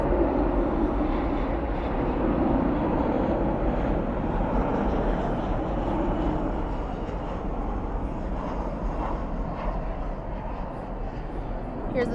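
A Boeing 777 arriving at Dallas/Fort Worth from Chicago O'Hare at night makes a continuous heavy jet roar, strong at first and easing slightly toward the end, with a voice talking at times over the noise.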